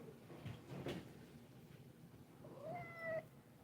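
A single soft meow from a cat near the end, after faint rustling and shuffling in a quiet room.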